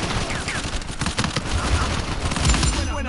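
Video game gunfire crackles in rapid bursts of overlapping automatic shots, dense and loud throughout with faint voices underneath.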